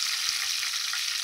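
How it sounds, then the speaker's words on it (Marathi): Curry leaves frying in hot oil in a pan for a stuffed capsicum dish, a steady close hiss and crackle of sizzling that runs without a break, with no voices. "तर भाजले, त्याच्यामध्ये कढीपत्ता,"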